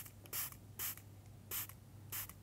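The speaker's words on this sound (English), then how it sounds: "Give it a very quick spray of water once again" Four short hissing spray bursts, evenly spaced, from a nearby spray bottle over a faint low hum.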